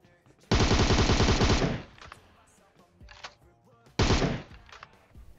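Automatic gunfire in PUBG Mobile, two loud rapid bursts of close machine-gun style shots separated by a short lull with scattered game sounds.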